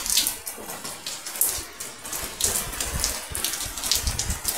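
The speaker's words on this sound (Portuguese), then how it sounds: "Olha como tá chovendo, ó." Heavy rain falls steadily, a dense continuous hiss and patter with no let-up, close and fairly loud, with no voices.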